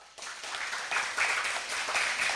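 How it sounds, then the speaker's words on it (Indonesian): Applause at a religious gathering held at MD Attohiriyah Kaliwadas, given for a guest named Pak Sulaiman: a group claps steadily at moderate loudness for a couple of seconds, mostly without talk. "Boleh tepuk tangannya untuk Pak Sulaiman dulu"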